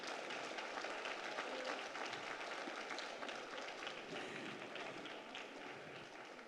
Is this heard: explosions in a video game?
no